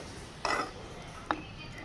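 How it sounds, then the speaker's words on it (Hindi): A spoon stirring custard in a pot, heard as two short metallic clinks against the rim about a second apart, faint and close in an otherwise quiet kitchen. "ये डालेंगे कस्टर्ड और साथ ही हिलाते रहेंगे"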